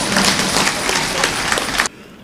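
A live audience at a Tamil comedy speech claps loudly and continuously, a dense wash of applause that cuts off abruptly near the end, leaving quiet room tone.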